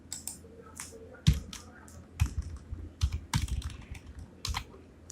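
A computer keyboard is typed on while someone writes Java code for a Spring Boot microservices project. The keys clatter close and steady in short irregular runs with a few louder taps, and there is no talk.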